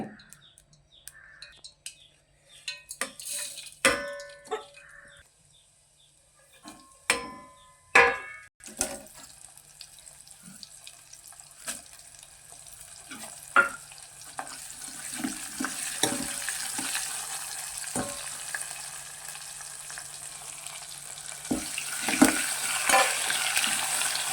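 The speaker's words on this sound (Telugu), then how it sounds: "ఆయిల్ వీటెక్కింది ఇప్పుడు పోపు వేసుకుందాము" Dry red chillies and curry leaves tempering in hot oil in a pan, with scattered clatters and stirring early, then a steady crackling sizzle building and continuing alone.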